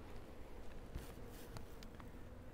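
Honey bees buzz in hive boxes out in an apiary bee yard, a steady low drone filling the scene with a few brief rustles and knocks near the hive.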